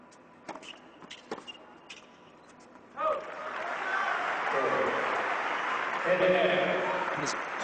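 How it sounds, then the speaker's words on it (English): Crowd applause at a Barclays 2010 tennis match between Federer and Nadal: a few scattered claps at first, then a broad wave of clapping swells in and holds steady, with a commentator's voice heard over it. "Now one southpaw applauding another."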